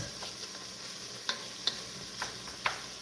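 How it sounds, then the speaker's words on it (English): Onions sautéing in a pot as the base for chicken chili: a soft, steady sizzle with a few sharp spoon clicks and scrapes against the pot. "So we're starting out by sauteing up some onions."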